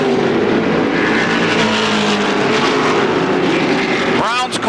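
Stock cars race around the Motordrome Speedway oval, engines roaring loudly and steadily as they run nose to tail, the pitch shifting as cars pass near; a rising whine sweeps in at the end.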